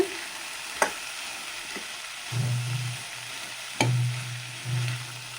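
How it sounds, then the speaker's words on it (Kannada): Chickpea usli with coconut and fresh coriander is stirred in a pan, with soft scraping strokes and a faint sizzle, plus a couple of sharp taps of the spoon against the pan, heard alone without talk. "ಸ್ವಲ್ಪ ಕೊತ್ತಂಬರಿ ಸೊಪ್ಪು ಹಾಕ್ಕೊತಾ ಇದ್ದೀನಿ. ಎಲ್ಲ ಮಿಕ್ಸ್ ಮಾಡೋದು."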